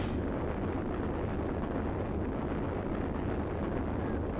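A large rocket explosion in Sonic Adventure 2 produces a sustained, roaring rumble of fiery blast noise. It stays loud and steady throughout without distinct separate booms.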